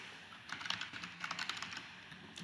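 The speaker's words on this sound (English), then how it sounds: "And we'll type in the title." Keys clatter in quick irregular bursts on a computer keyboard as a title is typed into a PDF accessibility tool, close and moderately quiet, with no voices.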